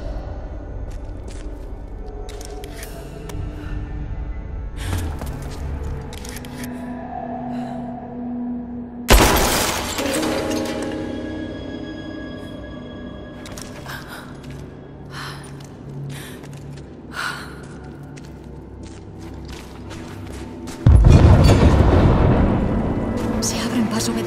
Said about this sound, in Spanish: Se abren paso mediante explosiones.